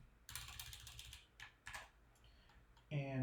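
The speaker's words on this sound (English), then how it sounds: "Let me make sure I type it correctly" Typing on a computer keyboard: a quick run of clustered clicking keystrokes, a short pause, then a few more bursts of taps, heard close and fairly quiet, with a brief voice just at the end.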